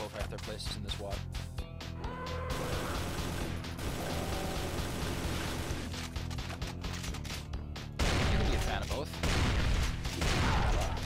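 Pistol gunfire in a Doom wad (Mandrill), repeated sharp shots in quick bursts over game music and effects, with someone commenting over the action.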